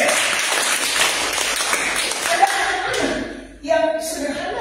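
An audience claps at a church youth service, a dense burst of applause that fades away and then gives way to a voice.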